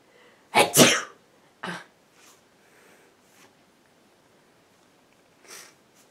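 A person who is sick sneezes sharply twice in quick succession, close and loud, followed by softer sniffs and a faint later snort in an otherwise quiet room.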